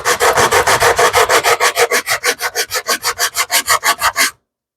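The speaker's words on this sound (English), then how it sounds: "Give the sides a very little hit. The sandpaper is fairly aggressive" Sandpaper rubbed briskly back and forth over a wooden cigar mold to strip glue buildup, about twenty even, rhythmic rasping strokes, close and loud, ending abruptly.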